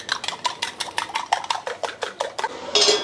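Two eggs with salt, chilli powder and turmeric whisked in a bowl, a fast regular run of light clinking beats at close range, ending in a short scraping rush.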